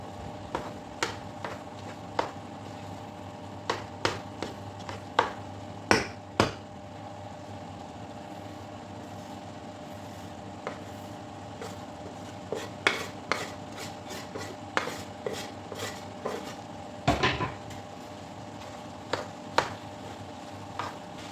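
A pot being stirred during home cooking of a dish with red pepper, dried mint and citric acid, giving scattered scraping clicks and taps of a utensil against the pot, in irregular bursts over a steady background hum.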